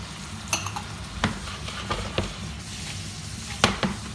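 Vinegar, rice wine and soy hitting a hot pan of prawn chow mein, a sizzling hiss broken by a few sharp clinks and scrapes of stirring, heard close with no speech.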